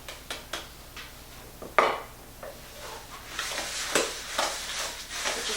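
A spoon stirs lemon drizzle cake batter in a bowl, giving repeated close scraping and clinking strokes that grow busier and more continuous, with no talk over them.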